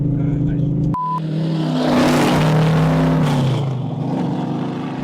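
A 1970 Plymouth Barracuda with its exhaust dumps open revs hard after a short beep, a loud, raw engine roar that climbs and then settles back to a rumble.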